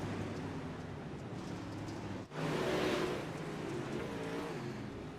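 Late model race cars roar around a track at night, with a loud steady engine drone, a brief dip as one passes, then rising revving as the field sweeps through the turns.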